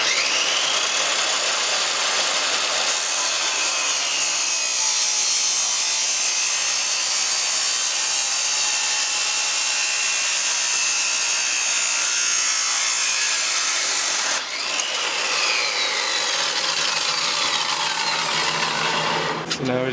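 A metal exhaust downpipe for a turbo Toyota Taco pickup is cut with a power tool, giving a loud, continuous harsh grinding whine that runs almost unbroken, with a brief dip near the end.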